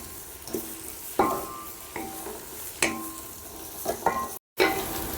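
Biryani ingredients sautéed in a pan: a few sharp spoon scrapes and clinks against the metal over a soft steady sizzle, with a brief dropout near the end.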